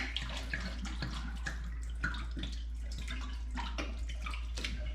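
Lukewarm tap water runs while an old glass bottle is rinsed under it, a close, splashy stream with irregular gurgles and clinks over a constant low electrical hum.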